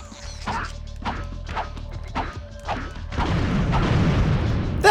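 A series of heavy thuds and crashing impacts in Ratchet and Clank, spaced irregularly, leading into a louder rumbling blast as the Ratchet decoy explodes, with no talking.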